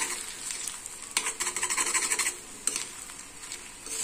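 Egg yolk being stirred into fried goat brain in a pan, a quick run of light scraping and tapping strokes over a faint sizzle, close and fairly soft.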